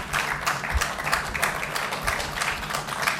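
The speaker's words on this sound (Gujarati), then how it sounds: "આપણે સર્જકનું ખૂબ તાળીથી અભિવાદન કરીશું." An audience claps to welcome a writer onto the stage at a Gujarati literary lecture event, a steady wash of moderate hand clapping lasting throughout with no talk over it.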